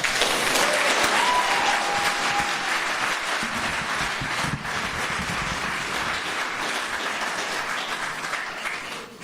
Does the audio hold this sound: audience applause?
yes